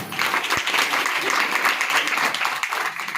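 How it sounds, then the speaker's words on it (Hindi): A crowd at a village Bhagwat Katha religious gathering bursts into loud, sustained clapping that fills the whole stretch, dense and close. "इनके लिए जोरदार ताली।"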